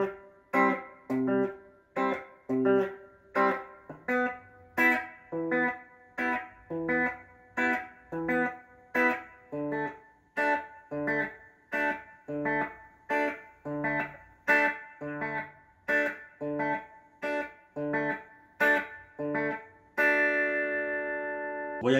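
Guitar playing the opening part of a song, a steady run of evenly spaced plucked notes and chords, close and clear, ending on a held ringing chord with no talk.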